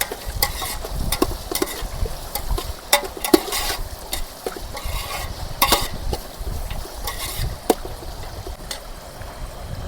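Green chillies sizzle in a pot for chicken biryani cooked outdoors at Athirapally Falls, with frequent loud stirring scrapes and clatter over a constant frying hiss.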